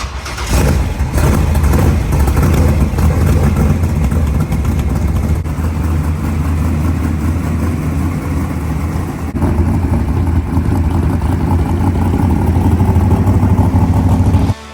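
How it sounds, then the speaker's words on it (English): Race car engines, including a Dart, idle and rumble loudly and continuously as the cars are driven to a nearby track. The deep, steady drone stays close and dominant, with slight variations in throttle. "we can drive the race cars to the track instead of having to trailer everything down separately"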